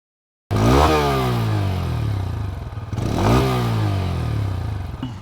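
A Bajaj Pulsar N125 motorcycle engine revs up loudly and close, falling back to a steady run, then revs again in a second climb, with some mechanical clatter beneath it.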